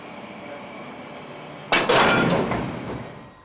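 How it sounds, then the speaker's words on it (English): The Ghan passenger train in the Australian outback, heard as a quiet steady rumble that suddenly gives way to a loud broadband roar and rattle of cars passing close by, fading slightly toward the end. "A train that bears their name stands as a witness of past times."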